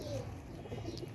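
Pigeon cooing, soft low throaty coos close by against a faint background, brief and quiet.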